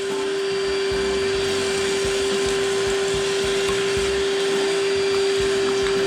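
A vacuum cleaner runs loud and close with a steady whining motor drone and constant airflow hiss, unbroken throughout, inside a small lightweight DIY truck camper build.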